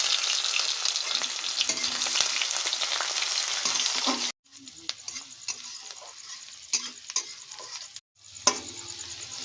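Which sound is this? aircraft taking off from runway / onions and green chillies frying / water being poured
onions and green chillies frying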